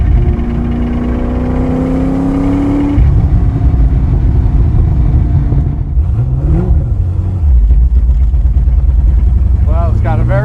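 A 1965 Ford GT40 Mk V V8 revs up from the cockpit on a road drive, a loud close engine roar rising in pitch through a long first gear, with someone talking over it.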